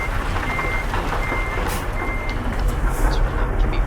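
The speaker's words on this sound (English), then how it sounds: "turn that beeping off" A truck's reversing alarm beeps in a steady repeating rhythm over a loud idling diesel engine rumble, close by, with no speech.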